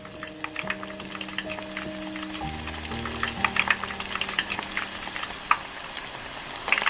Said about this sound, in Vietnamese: Rồi nhanh tay cho ngay tôm vào nồi dầu nóng để chiên nè.